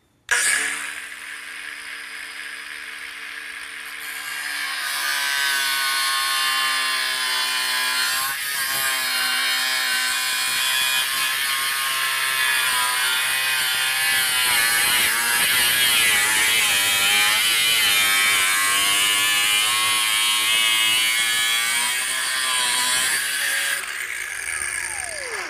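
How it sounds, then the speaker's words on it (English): A cutoff wheel slices through a Swisstrax garage floor tile with a loud, steady, high-pitched grinding whine. The cut holds for about twenty seconds and pitch wobbles as the wheel bites into the plastic. "but I'm using the cutoff wheel"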